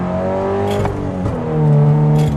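A 2013 Subaru BRZ track car with a short-geared, tuned full exhaust drones steadily as the engine revs, the pitch climbing and dropping with gear changes, loud and close.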